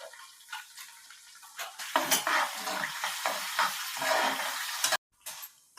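Curry leaves, asafoetida and dried red chillies hitting hot oil for pulihora tempering, a sudden loud crackling sizzle that sputters unevenly, then briefly cuts out before resuming.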